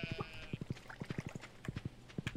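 Horse hooves in Stardew Valley clip-clopping in a quick, regular trotting rhythm, close and distinct, with faint game tones behind.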